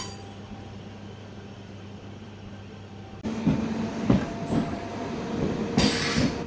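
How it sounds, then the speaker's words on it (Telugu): A MEMU passenger train pulls out of Gundlakamma station. A steady low idle gives way to a louder rolling rumble of wheels, with brief metallic squeals rising over the clatter as it gathers speed. "గుండ్లకమ్మ నుంచి మన ట్రైన్ బయలుదేరిపోయింది."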